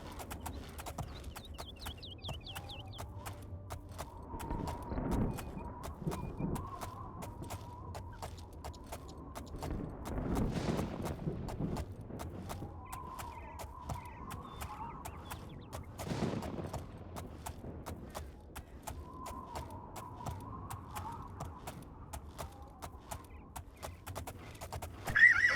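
Horse riding downhill in the Oblivion video game, with neighing and whinnying plus faint clip-clop hooves over a steady game ambience, a few louder bursts scattered through.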